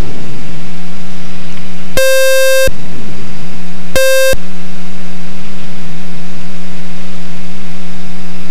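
Two sharp electronic alarm tones sound in the cockpit of an RV-7 light aircraft, the first longer than the second, loud and piercing over a steady engine drone.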